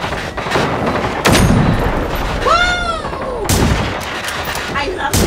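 Loud gunfire from the video game Generation Zero, several sharp shots with booming tails and whistling, sweeping tones between them, close and dense throughout.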